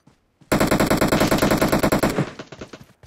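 Automatic gunfire from PUBG Mobile rattles out in a loud, rapid continuous burst of about twenty evenly spaced shots lasting under two seconds, followed by trailing echoes; no voices.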